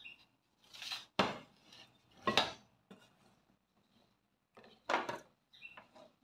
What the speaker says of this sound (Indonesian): ini cabai hijaunya saya iris-iris